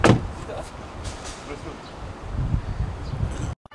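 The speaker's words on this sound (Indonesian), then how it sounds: "Tutup pintu jap." A McLaren MP4-12C door thuds shut up close at the start, followed by muffled rustling and shifting inside the cabin before a sudden cutoff.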